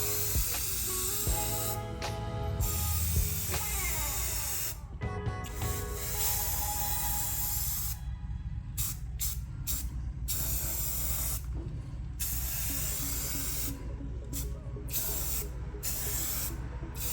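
Spray paint hisses onto car headlight housings for an aftermarket eBay headlight swap on a BMW 335i, starting with long, close, continuous passes and turning to a run of shorter, clipped bursts with brief pauses between them.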